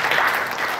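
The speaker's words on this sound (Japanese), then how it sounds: "拍手。" A group breaks into steady, even clapping at a youth coaching practice, a short dense burst of applause with no voices over it.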